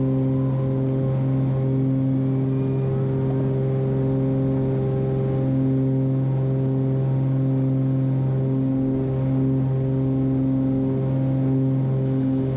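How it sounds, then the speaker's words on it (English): Twin piston engines of a Cessna 340 cabin-class aircraft drone steadily and loudly, heard from inside the cabin as the plane accelerates down the runway, a continuous even roar with no pauses throughout. "That's some pretty good acceleration down the runway."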